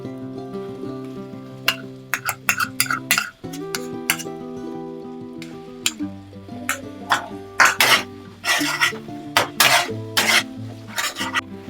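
Onion paste stirred in a pan for a fish curry, with repeated metal spoon scrapes and clinks against the pot over a steady background, rhythmic and fairly close.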